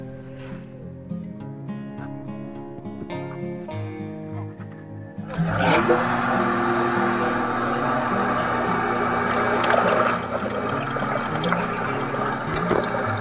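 Water rushes through a homemade pipe, starting as a thin trickle and then surging into a loud, steady gushing flow that continues to the end.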